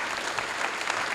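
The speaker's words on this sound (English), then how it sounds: "a big round of applause, please, for Marcel Vervoenen" A crowd at a Belgian palaeontology award ceremony applauds a laureate, a brief, even wash of many hands clapping at moderate volume with no voices.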